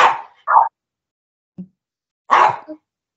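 A dog barks close by, a few short loud barks with a pause and then one more bark and a softer yelp, with silence otherwise.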